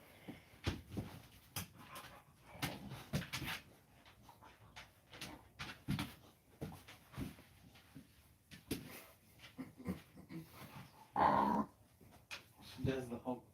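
A dog just awake from a nap growls and grumbles playfully in short bursts, fairly faint and intermittent under a person talking steadily nearby.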